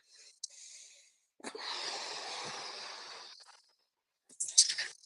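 A group doing heavy breathwork training for the respiratory muscles breathes forcefully: a short breath, one long, drawn-out hissing exhale, then a few quick, sharp huffs, all fairly faint with silent gaps between them.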